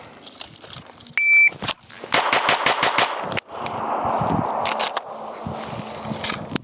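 Rifle shots with 147-grain ammunition and no muzzle porting crack sharply at an outdoor range, a quick burst of several closely spaced reports followed by ringing echo and softer handling noise.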